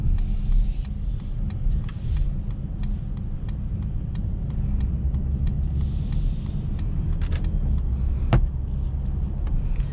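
A 2021 Mercedes-Benz E450 All Terrain wagon with a 9-speed automatic gives a steady low road and engine rumble from inside the cabin, with faint ticks over it and no talk.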